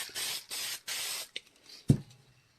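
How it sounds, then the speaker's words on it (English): A can of clear coat spray paint hisses in three short, even bursts, followed by a faint brief puff and then a dull knock as the can or a tool is set down. "Just going to add a little bit of clear coat right here."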